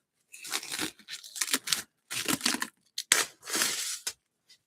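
Close, crackly sticky plastic wrap stretched and pulled in several bursts of tearing and crinkling, followed by a brief faint tick at the end.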